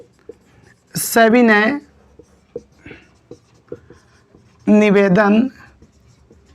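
A Hindi application letter is handwritten with pen on paper; soft scratches and small taps of strokes fill the gap between two short spoken phrases.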